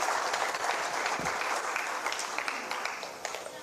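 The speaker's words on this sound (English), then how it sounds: "Another round of applause" A conference audience at a water week event applauds, giving a sustained, fairly even round of clapping with no speech over it.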